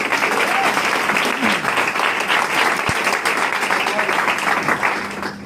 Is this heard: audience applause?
yes